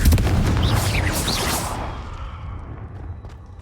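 A fiery Confringo spell blast in the video game Hogwarts Legacy, a loud booming explosion with crackling burst that rolls out and fades into a low rumble.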